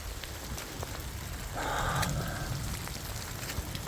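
Rain falls steadily during an Oklahoma storm as a continuous wash of hiss, swelling slightly louder partway through, with no voices.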